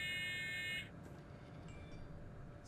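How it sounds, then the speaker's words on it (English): A mobile phone beeps during a Train Simulator 2017 session: a bright electronic tone rings loud and steady for under a second, then cuts off and leaves a quiet low hum with a few faint blips. "There's my phone beeping"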